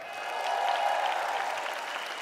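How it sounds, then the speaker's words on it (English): Audience applause rises at the Miss Universe 2016 pageant, a broad, even wash of many clapping hands heard from a distance, steady for about two seconds with a faint tonal hum underneath. "please give a round of applause to the president of the Miss Universe organization, Miss Paula Sugart."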